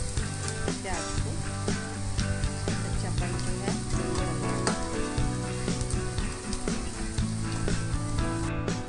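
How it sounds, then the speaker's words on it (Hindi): Onions fry in a pan with a steady, crackling sizzle while busy background music plays throughout. "सारा प्याज अच्छी तरह से डाल दीजिए। तो अच्छी तरह से फ्राई करना है"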